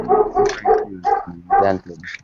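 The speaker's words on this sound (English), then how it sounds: "You're gonna have to go ahead and lower your dog's volume." A dog barks in a few short, sharp bursts indoors during a casual motorcycle hangout, with a person speaking briefly over the barks.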